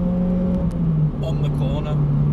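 A Honda EP3 Civic Type R pulling hard out of a corner, its engine note climbing in a rising whine up close, with someone talking over it.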